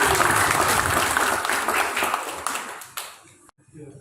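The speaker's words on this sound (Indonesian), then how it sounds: "Tepuk tangan untuk Anda semua." A crowd claps and applauds loudly at first, the applause gradually thinning and fading out over a few seconds.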